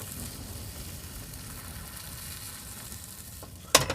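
An Anaheim pepper omelet sizzles gently in a frying pan, a steady close crackle of cooking egg that stays even before a brief clatter at the end, with no talking.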